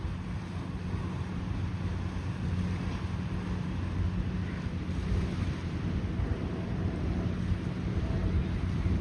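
Water pumped out of an outlet gushing into Manila Bay in front of Dolomite Beach, a continuous loud low-pitched rushing churn with wind buffeting, steady and unbroken throughout.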